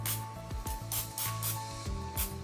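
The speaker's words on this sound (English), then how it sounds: "a spritz if you have a spritzer bottle of some cooking oil spray" A stromboli placed seasoning-side down gets a quick coating of cooking oil spray before air frying. Several short, soft hissing bursts come close together and fairly quietly.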